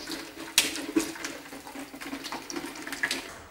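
Rainwater falls from a roof into the entrance of a five-year-old apartment building, trickling and splashing steadily at a faint level, with irregular drips and spatters and no voices.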